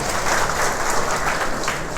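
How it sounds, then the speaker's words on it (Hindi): Sustained applause from a church congregation, dense steady clapping filling the room without pause. "एक बार तालियां बजा दीजिए।"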